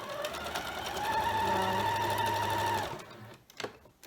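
Close by, a sewing machine runs steadily while stitching rows of a scrappy quilt block, then stops abruptly near the end, followed by a few soft handling knocks.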